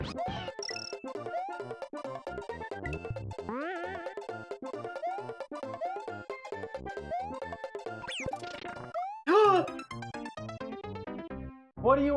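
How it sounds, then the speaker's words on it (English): A cat meows several times amid busy electronic game music playing steadily throughout, the meows close but partly under the tones. "What do you want, Salt? Want a meow?"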